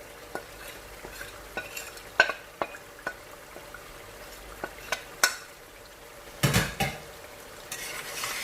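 Chicken frying with dry spices in a pot for dum biryani, a gentle sizzle punctuated by repeated sharp spoon clinks and scrapes against the pan, close by with a louder stirring flurry near the end.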